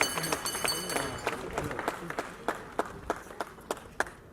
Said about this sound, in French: Est-ce que vous pouvez applaudir très très fort pour M.